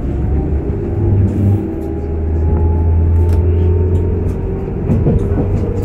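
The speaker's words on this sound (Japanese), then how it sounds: "雨で車輪が滑るので変なモーター音がしました。" Inside a JNR 185 series express train on a rainy day, the traction motors hum and whine with shifting tones as the wheels slip, over a loud, steady rumble of running gear.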